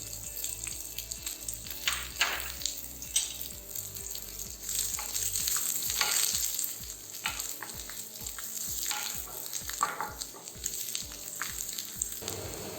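Finely chopped garlic and ginger sizzle in hot oil while being stirred for Japanese yakisoba noodles, a steady frying crackle broken by repeated scraping strokes of the spatula against the pan.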